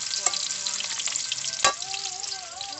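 Food sautéing in a pan in a rural provincial kitchen: a steady, close sizzle with scattered clicks of stirring and one sharp clatter partway through, no voices.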